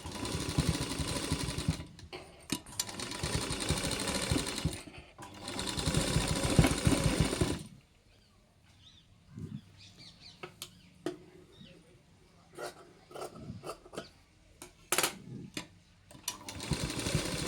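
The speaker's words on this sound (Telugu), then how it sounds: "ఇది కూడా అలానే రౌండ్గా కుట్టుకోవాలి" A sewing machine runs in close, loud bursts as it stitches round blouse tassels, and the machine then stops, leaving a quiet stretch of small handling clicks and taps.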